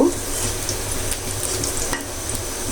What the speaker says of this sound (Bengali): আমি এখন এটাতে শাক দিয়ে দিব।